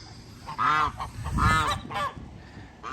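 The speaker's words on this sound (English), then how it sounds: "now the geese are gonna come out and eat everything up" Geese on a farm, brought out by grain thrown for them, give several loud, close, nasal honks in quick uneven succession, with farmyard noise behind them.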